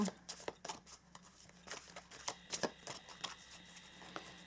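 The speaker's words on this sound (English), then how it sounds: "let's pull some Archangel Michael cards for you, number 2" Archangel Michael oracle cards being shuffled by hand, with a quick run of soft riffling flicks over a few seconds, close and fairly quiet.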